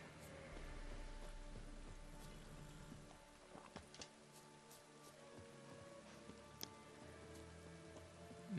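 Steady rain patters on surfaces in The Witcher 3 game world, a dense continuous hiss with scattered sharper drops and faint low ambient tones, fairly quiet and without voices.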